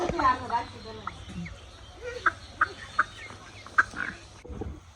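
Several chickens brought home for roasting give short, sharp clucks and squawks in a spaced series, fairly close, over low background noise and a brief voice at the start.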